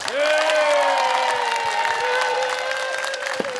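A studio audience at a television variety show claps and cheers for a contestant, a dense steady roar of applause with a sustained tonal whistle or horn running through it, loud and continuous.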